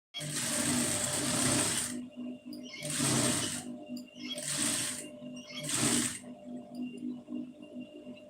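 A sewing machine stitches a lining blouse in four bursts, a long whirring run followed by three shorter ones, close and fairly quiet over a low steady hum.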